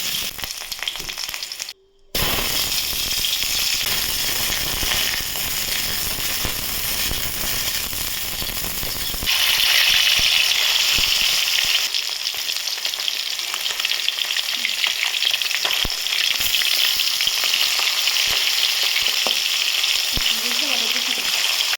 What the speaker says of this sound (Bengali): এবার এক এক করে সব ভেজে নেবো প্রথমে আলু তারপর ফুলকপি আর সবার শেষে মাছটাকেও ভেজে নেবো